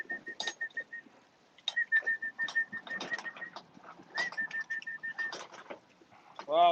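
Pigeons fly in to a loft during afternoon feeding, with repeated bursts of wing flapping and short whistled tones throughout, ending in a loud close flurry of wings.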